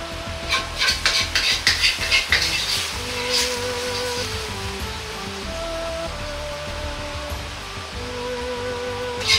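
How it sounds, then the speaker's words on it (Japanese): Minced meat sauce spooned and scraped from a pan over bean sprouts and egg, with loud clinking of utensils against cookware at first, then a steady soft sizzle and stirring noise, no talk. "もやしと卵の上にひき肉のあんかけをかけていきます。"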